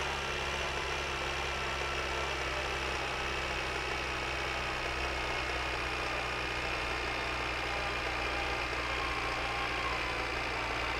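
A tractor engine idles in the driving game My Winter Car, a steady low, rumbling drone that holds unchanged for the whole stretch with no voices over it.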